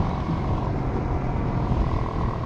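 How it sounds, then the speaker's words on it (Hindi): Loud, steady exhaust drone from a modified Yamaha R15 V3 motorcycle cruising on a highway, with continuous engine and wind noise throughout and no pauses. "exhaust is sounding a bit louder than usual"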